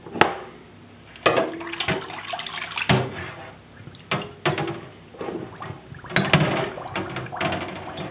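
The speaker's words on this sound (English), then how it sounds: "you immerse the bottles in the water" Water sloshes and splashes in a sink as glass bottles are lowered in, with several distinct watery plunges and gurgles separated by brief pauses.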